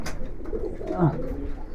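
Kaldom pigeons coo softly in a loft, a few low throaty coos rising and falling near the microphone over faint background rustle.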